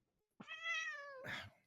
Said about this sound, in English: Random cat just appears.